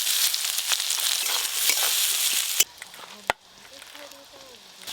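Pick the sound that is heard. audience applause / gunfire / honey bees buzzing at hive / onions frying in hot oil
onions frying in hot oil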